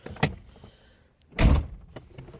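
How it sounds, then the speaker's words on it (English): The driver's door of a 1987 Delta 88 Coupe is pulled shut from inside, with a light click and rattle first, then a single solid thump close by in a quiet car interior. "Close the door here."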